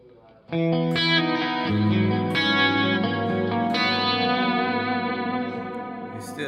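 Electric guitar chords ring out through an amp simulator, a full, slightly driven tone with a touch of echo, played alone with sustained notes.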